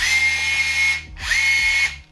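A Festool BHC 18 brushless SDS+ cordless drill runs in two bursts, each spinning up to a steady high whine, then cutting off with a short pause between, loud and close with no speech.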